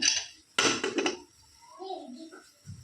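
Pots, pans and cutlery clatter in a sharp burst of metallic clanks as dishes are washed in a home kitchen, followed by quieter handling and a voice in the background.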